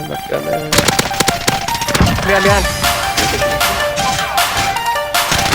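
Akimbo Sykov pistols with 80-round drums fire in a video game, a dense, loud rapid rattle of shots and impacts over game effects, with a voice talking briefly in the middle.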